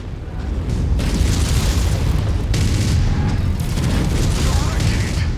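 Heavy rumbling explosion from a weapon hit in the MechWarrior 5: Mercenaries mech combat game, a loud sustained boom with layered blasts and crackle filling the whole span.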